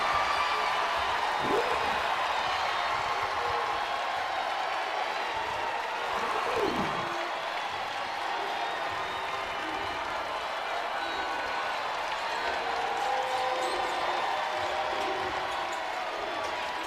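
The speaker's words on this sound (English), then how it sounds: "And listen to this crowd." Home crowd at a women's college basketball game, Kentucky against Florida, makes a sustained loud roar through the arena, with brief bursts of cheering and court sounds mixed into the steady din.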